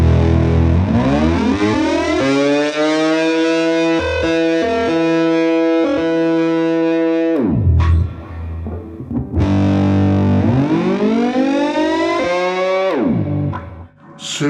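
Trumpet played through a Boss PS-5 Super Shifter pitch shifter pedal gives sustained harmonised tones that swoop and slide in pitch like a siren, loud and processed, with no talking.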